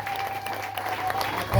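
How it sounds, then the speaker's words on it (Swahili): Applause from a church congregation at a prayer and deliverance service, a short burst of clapping lasting under two seconds with a steady crowd texture. "Mpigie Yesu makofi namna hiyo."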